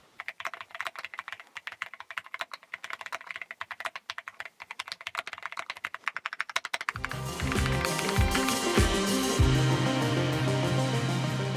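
Mechanical keyboard typing on Keychron Gateron Jupiter switches, crisp rapid key clicks in an uneven rhythm, close up; later a louder, denser layer of sound swells in behind the clacking.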